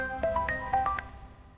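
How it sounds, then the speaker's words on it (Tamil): A phone rings with a short electronic melody of rising and falling tones, moderately quiet and alone with no talking. "நம்ம மெட்டீரியல் பர்ச்சேஸ் பண்ண குடோன்லேருந்து ஃபோன் பண்ணுறாங்க."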